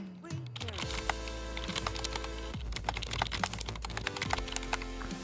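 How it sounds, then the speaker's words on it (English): Rapid, steady typing on a computer keyboard during a casual setup stream, with dense clicky keystrokes close to the microphone throughout and a faint voice underneath. "we can tone the keyboard down a little bit"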